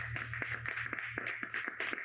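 Church congregation at a youth worship service clapping in a quick, steady rhythm, faint and a little distant, with a low hum of music beneath.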